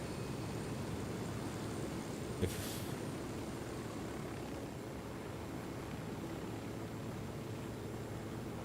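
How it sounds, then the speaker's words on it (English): Helicopter in Ghost Recon Wildlands flying steadily, a constant broad rotor and engine roar filling the whole stretch at even loudness, with one brief sharp click partway through. "I'm getting a slight hang of the new helicopter controls, and it makes this process a little bit quicker"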